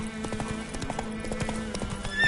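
Roach the horse gallops in The Witcher 3, a steady rapid clip-clop of hooves with an occasional whinny, close and fairly loud over game ambience.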